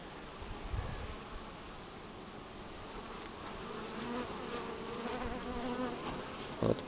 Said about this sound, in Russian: Вот пчела нам бросилась злиться.